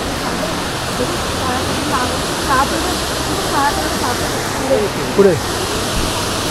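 A waterfall at Bhimashankar sanctuary, swollen after rain, roars as a loud, steady rush of water filling the whole scene, with people talking briefly beneath it.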